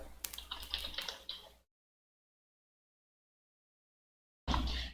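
Someone typing a comment on a computer keyboard: a quick close burst of keystrokes, a few seconds of silence, then another brief flurry of keys.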